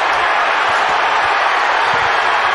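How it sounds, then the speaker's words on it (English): Boxing arena crowd in San Francisco at a championship fight between Floyd Mayweather Jr. and Jesus Chavez, a steady, loud wash of cheering and roar filling the whole stretch without a break. "What a crowd."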